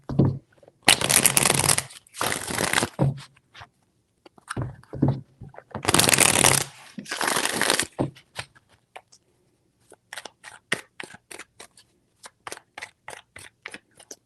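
Tarot cards being riffle-shuffled up close: two long, loud whooshing riffles followed by a run of sharp rhythmic card clicks and taps as the deck is bridged and squared.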